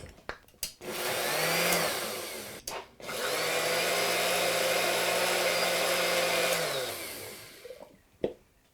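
A countertop blender pulsing sorrel soup with half and half: two loud whirring bursts, a short one then a longer steady run of several seconds, separated by brief pauses and clicks, with no talking.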